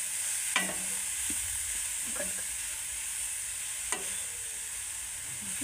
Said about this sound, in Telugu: నెయ్యిలో వేసుకొని ఇలా మంచిగా కలుపుకుందాం.